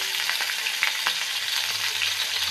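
Chopped onion fries in hot white oil with whole cumin, a bright, steady sizzle broken by a few sharp pops and stirring scrapes, close and alone without talk.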